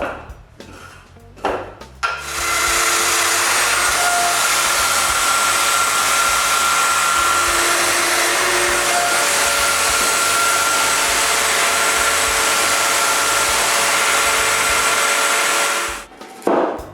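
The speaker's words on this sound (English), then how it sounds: "Then I mark their centers and make their mortises." A power tool runs steadily for about fourteen seconds, cutting mortises in wooden parts for a garage door in a workshop, with loud continuous whirring and brief handling noises at the start and finish.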